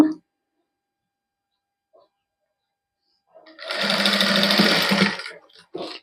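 A sewing machine runs in one burst of about a second and a half, stitching a plain-fabric sleeve with lace trim. Silence comes before it, and a brief noise follows.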